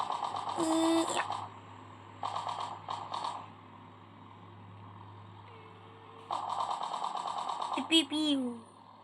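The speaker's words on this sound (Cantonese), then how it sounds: "哇，好激烈嘅槍聲。" Bursts of rapid video game gunfire crackle in short volleys separated by quieter gaps, with a voice speaking between them over a low steady hum.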